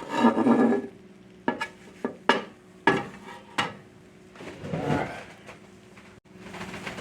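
A cheese omelette being flipped and worked in a pan: a burst of frying, then a series of distinct clanks and scrapes of a utensil on metal, followed by a renewed soft sizzle.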